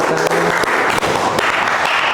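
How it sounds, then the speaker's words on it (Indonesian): Classroom applause from a group of students, dense continuous clapping filling the whole short stretch at close range, with no talking over it. "boleh tepuk tangan"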